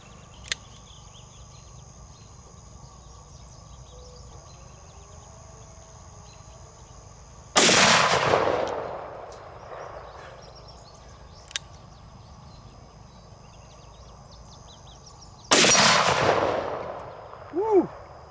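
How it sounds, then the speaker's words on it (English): A Magnum Research BFR revolver fires 450 Marlin rounds loaded with 405 grain lead flat nose bullets outdoors. Two loud, booming shots ring out several seconds apart, each trailing off in a rolling echo, with crickets chirping steadily in between. "we're just going to shoot 450 Marlin at it"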